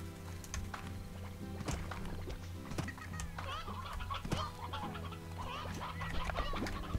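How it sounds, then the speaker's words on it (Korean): Chickens cluck in the Slime Rancher video game, with several overlapping bird calls over steady ambient game tones and scattered sharp clicks throughout. "닭이 야행성인가?"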